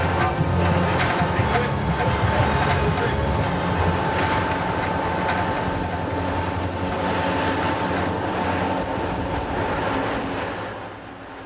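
A freight train rumbles past close by through a narrow tunnel on the Siskiyou Mountain grade in a continuous loud roar with rattling wheels and a steady tonal hum, fading slightly at the end.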